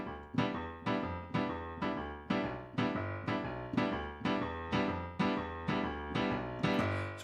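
Boogie woogie piano played staccato, short detached notes and chords bouncing in a quick, even rhythm over a repeating bass line, close and clear with no voices.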